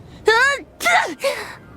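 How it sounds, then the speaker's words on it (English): A human voice acts out sneezing: three quick loud, close bursts in under two seconds, each a sharp voiced gasp-and-release. "apparently I can't even think about cats without sneezing"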